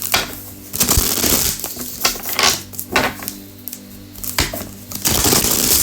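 Tarot cards being shuffled by hand in short, uneven bursts of riffling and slapping, close and fairly quiet, with small pauses between the clumsy shuffles.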